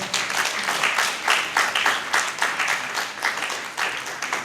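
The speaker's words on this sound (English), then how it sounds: "The applause is low." An audience applauds the author at a book launch, the clapping coming in uneven swelling bursts at moderate volume with no talking over it.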